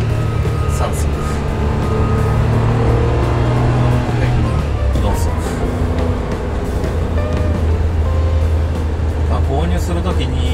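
Suzuki Jimny JB23W with a five-speed manual gearbox driving in third gear, its engine a steady, loud, continuous drone with road noise throughout, and a voice talking over it.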